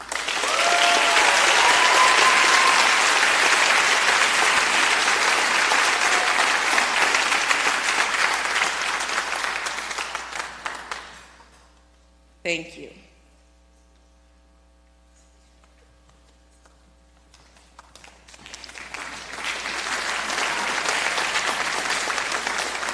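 Applause from a scholarship night audience honoring student recipients, loud and sustained for about eleven seconds before fading out, followed by near silence with a brief clatter and a short spoken thanks, then the clapping swells again.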